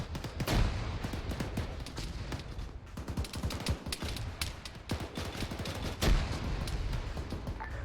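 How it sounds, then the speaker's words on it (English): Dense, continuous gunfire and repeated explosions in a military simulation video game, with rapid rattling bursts, a few heavy booms standing out, loud and close throughout. "Why is shit exploding?"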